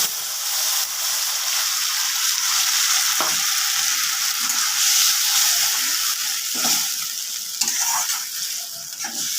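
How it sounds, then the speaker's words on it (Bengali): Spice paste sizzles steadily in hot oil after onions have been fried red, with a continuous frying hiss and occasional soft scraping strokes of stirring, close and loud, no voices. "মশলাটা ভালো করে কষিয়ে তারপরে এই আলুগুলি দেব এর মধ্যে আমি"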